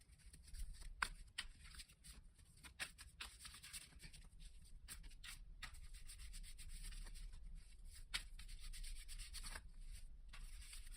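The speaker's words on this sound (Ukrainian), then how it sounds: "Поки я тасую колоду" Tarot cards are shuffled close by in repeated soft riffles and rubbing swishes, quiet and irregular, with no talking.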